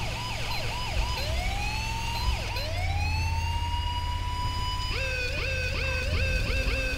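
A British-style ambulance siren in GTA V wails loudly and close, with rapid rising yelps followed by long sweeping two-tone rises, over a low engine rumble and no talk.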